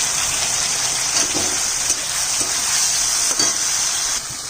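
Sliced ridge gourd fries in hot oil in a pan while being stirred, producing a loud, steady sizzle with scraping stir strokes recurring roughly every half second, close up and without talk.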